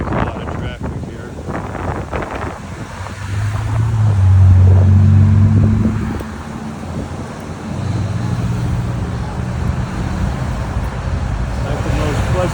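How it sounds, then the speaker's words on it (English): Road traffic on a busy boulevard heard from the roadside while walking, a continuous wash of passing cars with one louder vehicle rumbling close by in the middle, plus wind buffeting the microphone. "a lot of traffic here"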